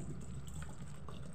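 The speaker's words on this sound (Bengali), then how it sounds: "যতটা মটর তার থেকে একটু বেশি পানি দিলাম।" Water pours steadily into a pressure cooker holding soaked green peas and potatoes, a soft, continuous, quiet gush with no talk over it.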